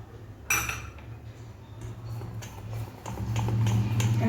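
A utensil stirs suji cupcake batter in a bowl after Eno is added, making clinks and scraping taps against the dish. The sounds are soft and irregular over a low background hum.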